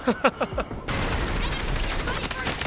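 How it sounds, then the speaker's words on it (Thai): Automatic rifle fire in the shooter game Delta Force: a dense, unbroken burst of rapid shots runs loud and close for about two seconds, right after a short spoken phrase. "สามสิบนัดยังยิงหมดอ่ะ"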